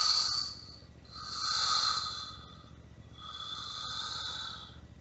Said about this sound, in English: Pursing your lips and blowing all the air out slowly.